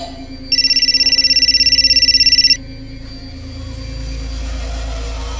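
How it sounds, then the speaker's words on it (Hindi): Telephone ringing in a home, a shrill electronic warble that pulses rapidly for about two seconds and then cuts off, leaving a low steady hum behind. "पापा आपका फोन बज रहा है।"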